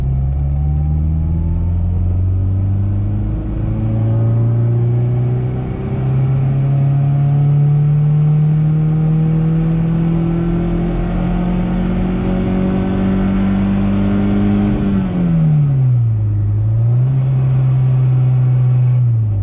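Mazdaspeed 6 with a fully built PTE 6062 turbo setup, pulling at wide open throttle in second gear: a loud, continuous engine note climbing steadily in pitch for about fifteen seconds, then dropping sharply at the shift before rising again.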